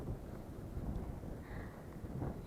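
Steady, broad wind buffeting a microphone on a bicycle outing, a constant low rumble that swells slightly in gusts throughout.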